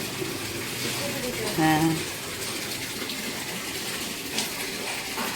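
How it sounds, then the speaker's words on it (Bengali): Water runs and splashes continuously while garden plants, including a hibiscus, are watered, with someone speaking briefly over it at moderate distance. "কখন গাছে জল দিচ্ছে।"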